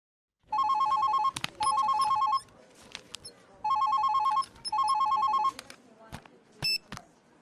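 A telephone rings in an office scene of a Tamil TV serial: four loud electronic trilling bursts in two pairs, clear and close, followed by a few clicks and handling sounds with no talk.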